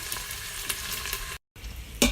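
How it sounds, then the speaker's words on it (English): Steady sizzling of potatoes, onions and red peppers frying in a pan, with light stirring scrapes, a brief cut-out, then sizzling again. "I've been frying the potatoes, or sauteing the potatoes, onions, and some red peppers"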